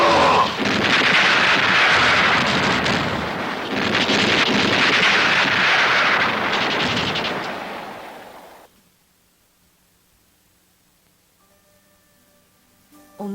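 Artillery fires in two heavy, roaring bursts whose long rumbling blasts fill the first eight seconds and then cut off, leaving near silence with faint tonal notes at the end.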